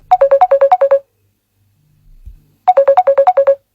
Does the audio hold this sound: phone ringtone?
yes